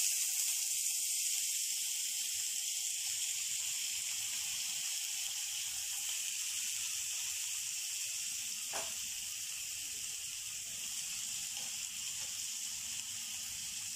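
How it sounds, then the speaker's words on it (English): Onions frying with fennel seeds (sombu) in a pan give a steady, soft hiss that carries on evenly throughout, quiet and continuous with no voices. "You have to fry the onions very well because it is Muttai Thokku"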